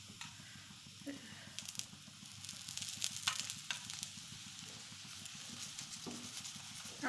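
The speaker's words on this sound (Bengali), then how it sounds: "এবার আমি এটাতে তেল দেবো" Stuffed roti (sattu-filled) frying in white cooking oil on a pan, a quiet steady sizzle with intermittent crackles and light scraping, heard up close.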